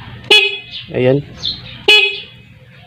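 A car horn gives two short, loud honks spaced over a second apart, with a person speaking briefly in Filipino between them.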